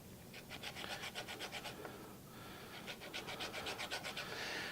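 An orange is zested on a rasp grater in a kitchen, two runs of quick rhythmic scraping strokes, close but quiet, with a short pause between them.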